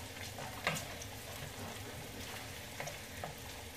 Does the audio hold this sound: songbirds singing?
no